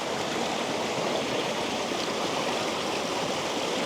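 Steady, full rush of the Chantathen waterfall and its stream in Thailand during the rainy season, a dense continuous roar of falling and flowing water heard up close, with no voices.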